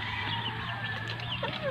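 Chickens on a backyard poultry farm, some ill with fowl pox, clucking and calling close by in short repeated bursts over a low steady hum.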